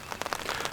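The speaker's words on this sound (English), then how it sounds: "the rain has arrived" Rain falls steadily in a dense, close wash of patter, with no voices over it.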